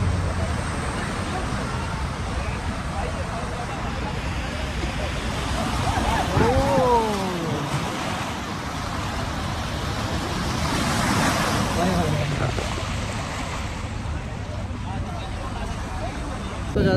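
A car pushes through deep floodwater on a flooded Dubai street during heavy flooding, sending a broad rushing wash of water that swells and recedes over steady wind and ambient noise, with people talking nearby.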